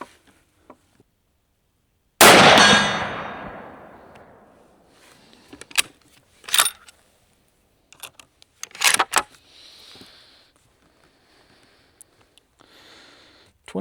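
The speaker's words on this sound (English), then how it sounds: "We're going to shoot the bottom left." A single loud, close gunshot from a Tikka T3x Hunter rifle in 6.5x55 Swedish Mauser cracks out and decays quickly, followed by scattered clicks and handling noises of the bolt and gear.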